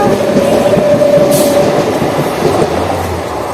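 A train pulls out of a station with a loud, close rumble of rolling cars. A brief squeal of wheels rises over the rumble, and a low drone sets in near the end.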